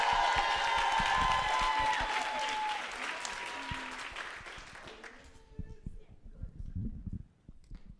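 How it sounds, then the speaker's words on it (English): Applause for women in Maine corrections at a women's collective leadership celebration conference: a full room clapping and cheering, loud and sustained for about five seconds before fading out as a voice begins speaking. "Give them a round of applause"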